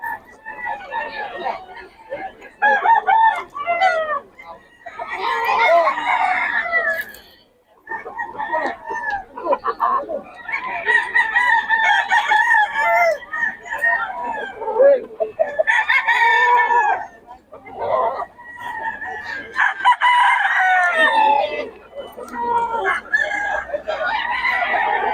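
Several roosters crow repeatedly at a year-end rooster sale in Bocaue, Philippines, some close and loud, others farther off, overlapping in long drawn-out calls with occasional clucking between.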